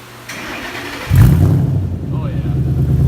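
A Ford Mustang GT 5.0 fitted with an MBRP exhaust starts up close by, with a brief starter whir and then a loud, deep rumbling idle that holds steady, with people talking just before it catches.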